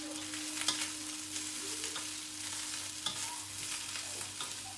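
Egg-fried rice with meat and vegetables being stirred and tossed in a hot pan, a steady sizzle broken by scraping spatula strokes and light clinks.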